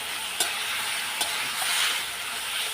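Masala with ginger paste and a splash of water sautés in a pan for a fresh fish curry, hissing in a steady sizzle with two brief scraping knocks from the spoon.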